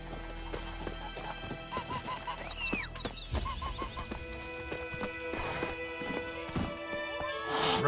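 Roach the horse galloping in The Witcher 3, rapid hoof clip-clops with a whinny near the start, over game music and ambience, with some voices.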